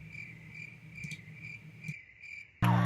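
Crickets chirp in a steady, pulsing chorus over a quiet background, cut off near the end by a sudden loud burst of noise.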